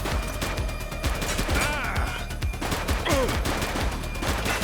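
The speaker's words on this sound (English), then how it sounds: "He's shooting!" Rapid gunfire bursts from The Precinct video game, dense repeated shots rattling close and loud with echoing impacts, brief shouted voices under the shooting.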